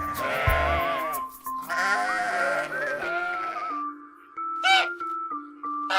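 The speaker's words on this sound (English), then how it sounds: "sheep," Sheep bleating in a farm animal sound sequence, several loud, wavering calls in close succession over a faint background tone, with no talk.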